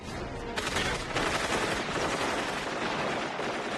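Sustained gunfire from the 1990 film Total Recall, a dense, loud burst of rapid shots and overlapping bangs filling the whole moment without speech.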